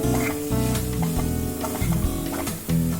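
Grated coconut stirred and frying in a pan of mushroom masala, a steady sizzle with scraping stirs running throughout under prominent background music.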